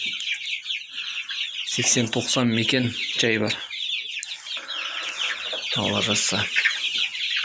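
Chickens and chicks cluck and chirp in a coop with about 80-90 young birds, a busy close chorus of high peeping and clucking that runs throughout while someone talks over it in Kazakh.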